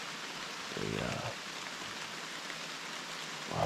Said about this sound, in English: hoping if this rain moves out